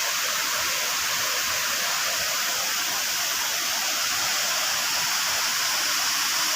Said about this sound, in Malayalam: നിറഞ്ഞൊഴുകി താഴോട്ട് ഒഴുകി പോവുകയാണ്